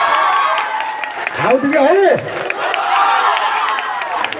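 An audience at a comedy show at a college claps and cheers in a dense, continuous wash of applause and crowd noise, while a loud voice shouts over it midway.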